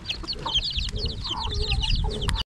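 Black Australorp hens and roosters cluck in a busy flock, a stream of short, overlapping calls at close range over low background rumble, ending abruptly.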